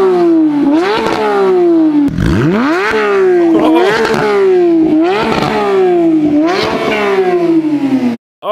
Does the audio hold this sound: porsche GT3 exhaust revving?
yes